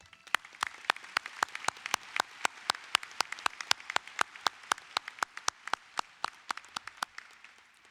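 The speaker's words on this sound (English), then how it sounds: "Big round of applause, please." Applause at a high school graduation ceremony comes as steady, evenly spaced claps with a thin, sparse texture, continuing without pause and without talk.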